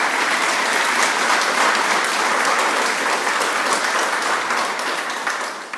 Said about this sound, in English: So could we give them a round of applause, please?